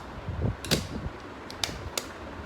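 Plastic battery cover of a Raxon digital blood pressure monitor being closed: soft handling rustle, then a few sharp, close plastic clicks and snaps as the lid seats, quiet overall.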